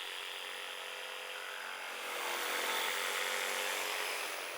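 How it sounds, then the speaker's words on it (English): Jigsaw cutting a V-shaped notch into a clamped piece of scrap wood on a workbench, a steady buzzing saw whine running throughout the cut and swelling slightly louder partway through, with no talking. "Using a jigsaw, I cut a V-shaped notch into first one end,"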